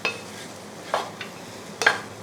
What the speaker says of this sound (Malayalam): ഒരു 6 ടേബിൾ സ്പൂൺ തേങ്ങ നല്ലതായിട്ടൊന്ന് ഇളക്കി കൊടുക്കാം.